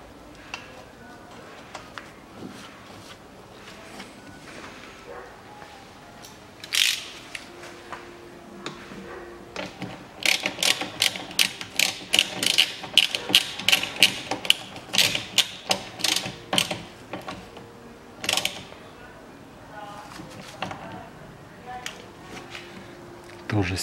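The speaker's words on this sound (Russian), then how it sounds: "Наживляем гайку и затягиваем" A ratchet wrench tightens a nut on a Volkswagen Tiguan front left strut mount, giving rapid bursts of sharp clicking in uneven runs, close and fairly loud, with someone talking at times.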